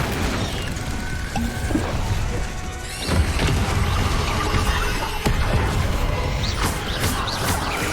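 Incendio fire spell effects in Hogwarts Legacy, a dense roaring whoosh of flame mixed with heavy booms and crashing impacts from rapid combat spellcasting, loud and unbroken from start to finish.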